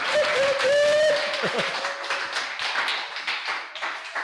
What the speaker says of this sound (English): clap your hands, clap your hands.